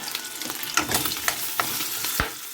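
Aromatics for pinakbet with pork sizzle and crackle in a hot pan, with a steady fry and scattered pops and stirring clicks, close and clear with no voices.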